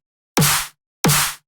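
A dry electronic clap sample with no reverb, hit twice, about two-thirds of a second apart, each a loud, sharp burst that cuts off quickly into silence.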